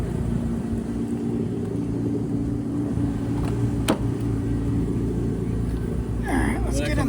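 A Mitsubishi 3000GT project car drives along with a steady low engine and road drone, a brief sharp click partway through and people talking over it near the end.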